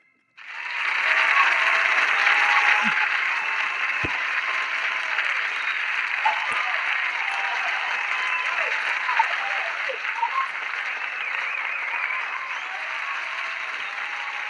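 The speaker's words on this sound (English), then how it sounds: "in studio audience had something to cheer about here too" Studio audience at a radio show applauds and cheers steadily for about fourteen seconds, a dense, loud, even wash of clapping with scattered whoops, starting abruptly and holding level to the end.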